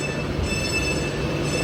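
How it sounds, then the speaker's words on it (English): A tilting train to Manchester idles at a station platform, giving a steady, close mechanical hum and hiss with a faint high whine and no clear movement. "So here's our train."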